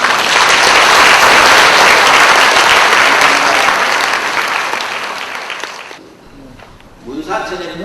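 Loud, dense applause from an audience welcoming association vice-presidents and guests as they stand at a tea-culture education event, sustained for about six seconds before fading, with a voice briefly heard as it dies away.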